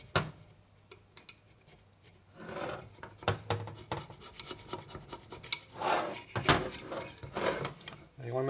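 Hand scraper rasping over Harley-Davidson panhead four-speed transmission parts, a 1965 FL/FLH gearbox under rebuild: repeated short scrapes and rubs, close and moderately loud, with someone talking over parts of it.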